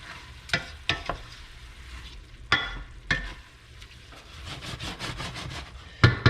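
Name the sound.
stock being stirred into seafood risotto rice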